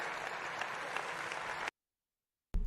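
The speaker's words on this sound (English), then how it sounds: "Golf clap." Brief, light applause from a small audience at an Economic Club of New York event, a soft patter of clapping that runs for under two seconds before stopping abruptly, followed by a short silence.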